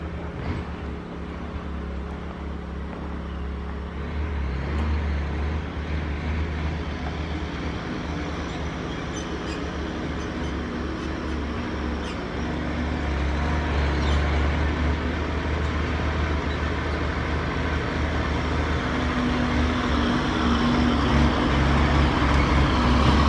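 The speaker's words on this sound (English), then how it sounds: "Guess what's coming, guys? It's the dump truck. It's coming." A loaded dump truck approaches on a rural access road under repair, a steady loud engine rumble and rolling roadway noise that grows gradually closer and louder, with no talking.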